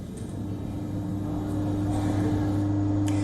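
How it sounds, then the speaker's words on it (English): Steady low mechanical rumble of machinery paving a driveway at the White House, a constant engine drone with a persistent hum, continuous and fairly close throughout. "They're paving the driveway here at the White House."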